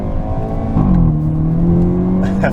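A 2022 Hyundai Elantra N engine revs hard close by at full throttle, with a quick drop in pitch at a fast gear shift followed by a steady climb.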